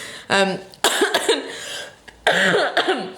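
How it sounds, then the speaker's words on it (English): A few harsh, close coughs break out in separate bursts, mixed with throaty vocal sounds, loud and near. "Safe to say I annoyed everyone at work today with my cough"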